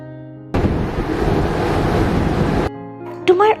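Sea waves surge in a loud, steady broadband roar for about two seconds, then cut off abruptly, followed by a brief whistling tone near the end.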